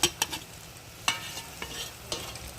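Spatula scraping and stirring fried rice and vegetables with chicken and egg in a pan, with repeated clinks and a steady soft sizzle underneath.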